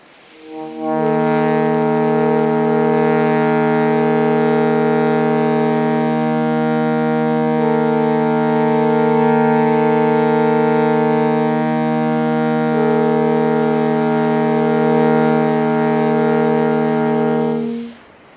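A tritone interval sustained as a long, loud chord of rich harmonic tones, held steadily for about sixteen seconds with a slight shift in tuning partway through, then fading out.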